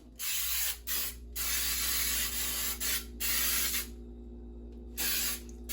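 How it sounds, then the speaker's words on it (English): Baker's Joy non-stick spray pumped into a cake pan, several loud, close hissing bursts of varying length with short gaps between them, no voices. "All right, so I'm just going to spray this well."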